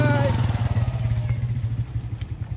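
A motorcycle engine runs close by, a steady mid-pitched throb that swells slightly as the bike moves off, with people talking over it.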